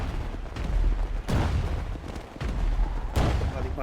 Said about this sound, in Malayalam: ബാക്കി പടക്കൊക്കെ പൊട്ടിക്കുന്നുണ്ട്.